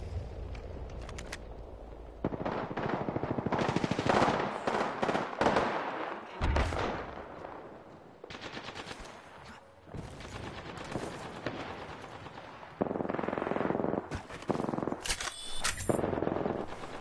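Gunfire in Apex Legends, loud rapid automatic bursts and single shots crackling in dense clusters, close and sustained with brief pauses between volleys.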